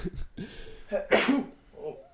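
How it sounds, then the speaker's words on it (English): A single sharp sneeze bursts out mid-clip, close and loud, with brief breathy sounds before and after. "Sneezes."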